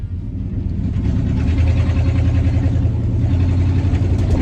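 A 1965 Acadian Beaumont, long neglected and running with almost no exhaust system, drones loudly on a test drive, its deep uneven engine rumble steady and close with a slight swell mid-clip.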